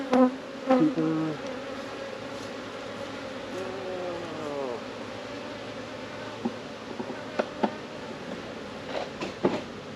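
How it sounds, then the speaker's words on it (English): Honeybees drone steadily inside an open beehive in an outdoor apiary, a dense continuous hum with a few sharper buzzes of single bees close by, no voices. "Full of bees on the top."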